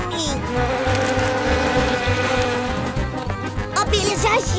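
Cartoon bees buzz loudly in a continuous droning hum with a steady pulsing rhythm, close up, mixed with background music and bright animated sound effects near the end.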